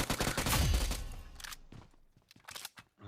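Gunfire rattles in the BGMI mobile battle royale game, a dense, loud burst of rapid shots up front easing into scattered, quieter single cracks and short bursts.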